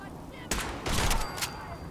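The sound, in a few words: gunfire from a video game (Fallout mod)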